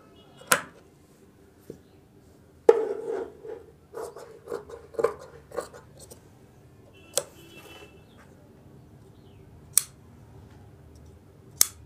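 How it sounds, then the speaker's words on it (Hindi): Scissors snip through kurti fabric in a series of sharp, close clicks and short crunching cuts, irregularly spaced with quiet pauses between strokes, fairly faint overall. "तो अब इसको हम काट लेते हैं ताल को"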